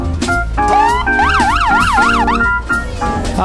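Paramedic ambulance Rescue 11 sounding its siren at a neighborhood block party in Hermosa Beach, a loud close wail shifting into a rapid yelp pattern amid short blasts.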